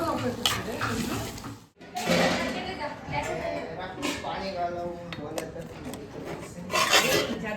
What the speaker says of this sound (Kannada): ಎಲ್ಲ ಮಿಕ್ಸ್ ಮಾಡ್ತಾ ಇದ್ದಾರೆ